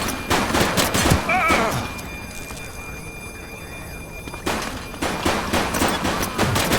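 Gunfire in a police video game, rapid bursts of shots near the start and again after a quiet stretch, close and loud, with voices and game sounds mixed in.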